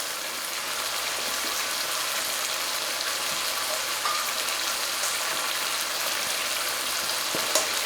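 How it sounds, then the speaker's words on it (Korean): Seasoning, chili oil and assorted vegetables for jjamppong fry in a pan, a steady dense sizzle holding evenly throughout with a few faint stirring knocks and no talk. "양념과 고추기름 그리고 각종 야채들이 잘 볶아졌으면은"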